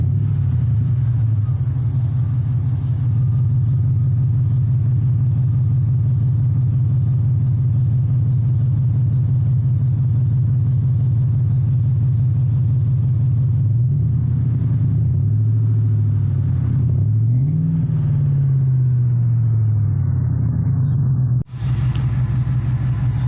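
Tenth-generation Ford F-150 pickup nearing 200,000 miles, engine idling with a sawed-off exhaust: a loud, steady low rumble that surges through a few revs near the end before abruptly cutting off.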